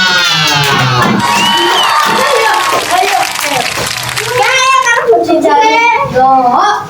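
Schoolchildren in an elementary school classroom cheer, shout and clap together after a lesson answer, a loud, busy burst of young voices with scattered applause and whoops continuing throughout.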